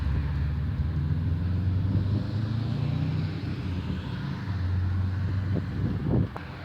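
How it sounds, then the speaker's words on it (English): A car being moved into sunlight after a windshield crack repair with Rain-X: a steady, close low engine rumble mixed with wind noise, ending in a brief clatter, with no talking. "And then I'm gonna move my car right under the sunlight."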